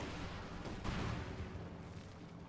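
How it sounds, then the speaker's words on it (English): Artillery barrages and gunfire rumble in Company of Heroes 2, a dense low battlefield roar with a heavier explosive swell near the middle, moderately loud and without speech. "2 barrages flying here into the center."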